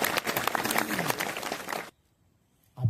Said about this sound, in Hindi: सभी किड्स से अनुरोध है कि ताली बजाकर